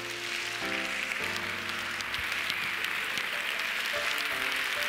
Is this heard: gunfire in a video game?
no